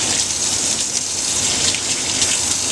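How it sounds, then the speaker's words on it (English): Turnips rinsed under a running kitchen tap, a steady close hiss of flowing water splashing continuously over the roots without any talk. "And again, we're just going to give them a rinse."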